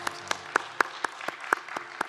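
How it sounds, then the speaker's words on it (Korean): A church congregation claps together during a Sunday worship service in Incheon. The claps are sharp and evenly spaced in a steady rhythm over a low room murmur, and continue for about two seconds. "우리 예배 가운데 함께 하신 하나님께 감사의 박수 올려드리겠습니다."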